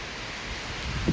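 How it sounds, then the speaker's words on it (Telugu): Rain falls outdoors at a home, a faint, steady hiss of drops with a soft thump near the end, no voices. "వర్షం పడుతుందండి ఇప్పుడు మాకు"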